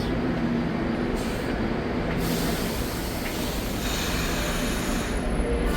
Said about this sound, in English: let me see the train station.